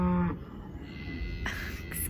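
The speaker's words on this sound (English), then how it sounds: "Excuse the loud cows" Cows surrounding a rural yard moo loudly, a deep low bellow at the start followed by further lowing and ambient noise.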